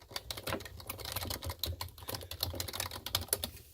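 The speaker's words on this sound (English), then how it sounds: "Y'all like this typing sound." Rapid, irregular clicking of keys on a computer keyboard, close and quiet, with a steady stream of keystrokes.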